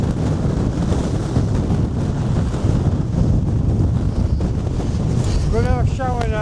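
Strong wind buffets the microphone in a constant heavy roar on the exposed gritstone ridge of Stanage Edge, with a voice breaking in near the end.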